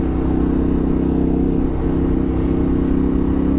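A 2025 Yamaha Tenere 700 motorcycle with upgraded K-Tech springs, engine droning steady and loud at close range as it rides over a small hump, with no talking.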